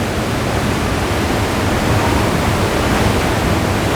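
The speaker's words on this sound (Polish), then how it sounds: "Wodospad." Constant roaring rush of falling water, loud and broadband, unchanging from start to finish with no other sounds.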